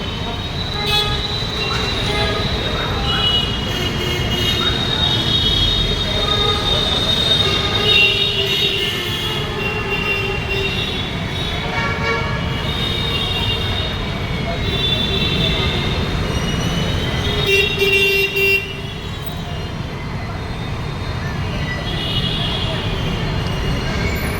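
A metro train runs through Sitabuldi station in Nagpur, its loud continuous rumble carrying squealing wheels and brief tones throughout, while people talk over it.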